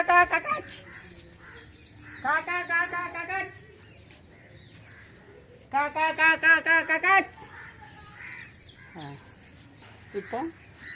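Crows cawing near a food offering left out during a Pongal celebration, two clear bursts of rapid harsh caws from nearby birds separated by quieter gaps, with a few short calls near the end.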